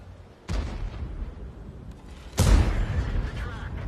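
Two heavy cannon shots from tanks in World of Tanks, including a Z-28 prototype tank destroyer, boom out about two seconds apart, each a sharp blast with a rumbling tail over constant game background noise.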